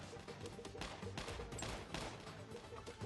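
Rapid gunfire from the mobile war game WarFriends as enemy units are shot, with dense bursts of shots running continuously at low level under a busy game mix.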